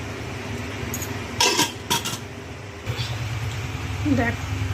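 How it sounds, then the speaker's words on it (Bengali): A lid goes onto a cooking pot of bhuna khichuri with two short metallic clanks in quick succession, set against a low, steady kitchen background hum. "এবার আমি ঢাকা দিয়ে দেবো।"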